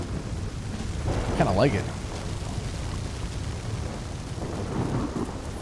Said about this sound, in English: Man, that thunder's loud though, isn't it?